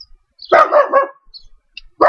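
A pet dog barks in a few loud, close, separate bursts, with short gaps between them and one last bark cut off at the end; no one speaks.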